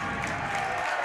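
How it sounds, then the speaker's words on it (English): Applause from home fans and the team bench in a high school gym during a Tonganoxie Chieftains vs. Paola Panthers basketball game, a steady wash of clapping and crowd noise throughout. "a round of applause from the Paola fans and their bench"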